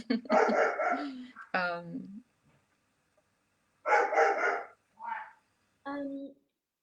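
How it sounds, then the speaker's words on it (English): A dog indoors barks and whines in several short bursts with quiet gaps, close and fairly loud, reacting to squirrels outside. "my dog is complaining about probably the squirrels outside"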